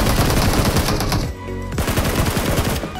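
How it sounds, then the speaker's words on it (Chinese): AK rifle fire in the mobile shooter Peace Elite: loud rapid bursts of automatic shots, a brief pause, then another fast volley, close and dense. "一把 AK 的枪声"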